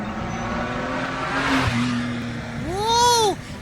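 Car driving up and passing close, a steady engine drone rising to a loud rush with a swooping pitch shift near the end, over a faint background hum.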